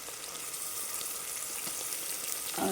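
Onions and green chillies fry in a pan for tomato rice, a soft continuous sizzle and crackle at low level with no voices.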